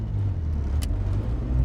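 A 1996 Suzuki Jimny Land Venture, a small JDM kei SUV, drives along with a steady low engine drone and road rumble heard from inside the cabin, close and continuous, with no talk.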